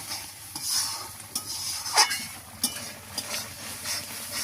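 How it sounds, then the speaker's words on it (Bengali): Spice masala is stirred in a frying pan with a quiet background sizzle, and soft scraping strokes and small spoon taps come at irregular intervals. "মশলা একটু নাড়িয়ে নেব যাতে পুড়িয়ে না ওঠে।"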